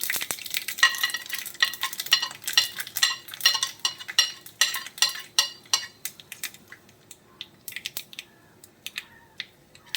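Mustard seeds and urad dal crackle and sizzle in hot oil while tempering a gooseberry ozhichu curry. Dense, irregular pops ride over a steady fry hiss, busiest early on and thinning to sparser snaps toward the end, with no voices.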